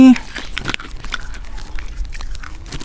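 Crisp crunching bites and chewing of a crispy snack, close to the mic in quick irregular bursts, with a brief voiced sound at the very start.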